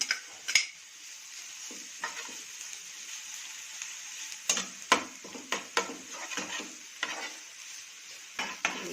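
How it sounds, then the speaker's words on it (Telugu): Onions and green chillies fry in a pan with a soft sizzle, broken by frequent sharp scrapes and clicks of a spoon stirring against the metal, close up with no talking. "ఉల్లిపాయ పచ్చిమిరపకాయలు సన్నగా వేగాయి కదా."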